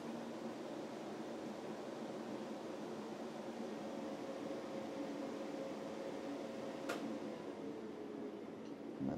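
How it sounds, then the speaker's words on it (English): A solar inverter's cooling fan runs as a steady broadband whir with a faint hum, constant and moderately loud throughout, with a brief click near the end. "you heard the fan noise drop straight back down again"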